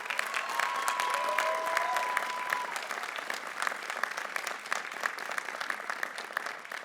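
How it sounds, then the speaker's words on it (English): Applause from graduates and guests at a 2023 Dean College commencement ceremony, a broad steady wash of many hands clapping that holds strong for several seconds before thinning slightly, heard at a distance across a large outdoor crowd. "can we have a huge round of applause for all the villagers?"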